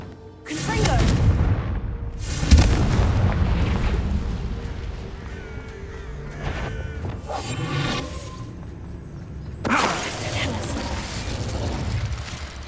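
Confringo blasting spell going off in Hogwarts Legacy, heavy booming bursts with rumbling crashes, the strongest near the start and a sharper blast later, under a busy game mix with shouting voices.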